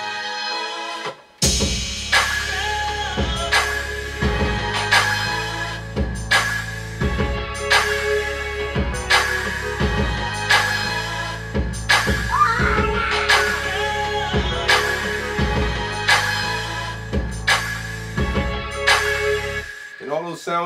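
A music sample used for beat making, playing loud with a repeating rhythmic pattern of punchy bass notes and bright tonal layers, looping steadily for about twenty seconds after a short quiet start.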